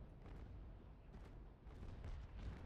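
Naval cannon broadsides in Naval Action, low muffled booms rolling in at a distance, several overlapping blasts over a rumbling background.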